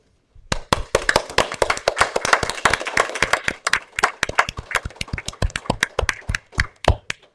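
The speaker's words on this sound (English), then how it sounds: "So I ask you all to stand and applaud our friend" Audience applause at a Southampton Village board meeting, starting abruptly after a brief silence: close, sharp claps from a small group, dense at first, then thinning into scattered individual claps.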